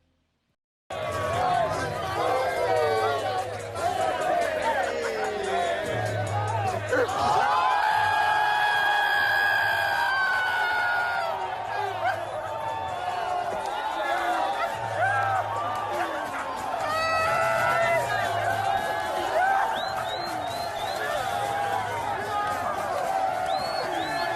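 A crowd at a basketball game whoops, cheers and chatters in a loud, continuous wash of voices, with music and shouted exclamations rising and falling over the babble.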